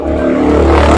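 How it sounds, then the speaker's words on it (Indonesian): An old, worn-out motorbike engine running while riding, a loud, close, steady droning rumble with no voices. "kami menggunakan motor butut ya teman-teman"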